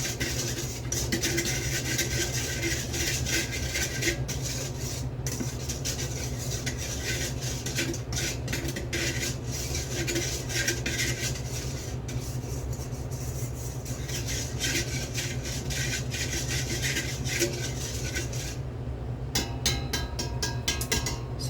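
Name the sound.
mixing bread dough ingredients in a bowl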